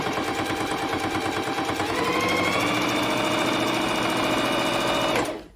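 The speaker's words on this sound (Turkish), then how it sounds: "8 kat kotu makinenin altına koyuyorum. Herhangi bir müdahale etmeden normal penye dikişindeki diker gibi makinenin altından" A Bernette B05 Academy sewing machine stitches through eight layers of denim with a fast, steady mechanical chatter, loud and close, rising slightly in pitch midway before stopping abruptly at the end.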